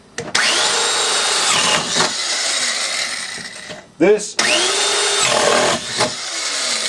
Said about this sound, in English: I'm using a 3/4-inch drill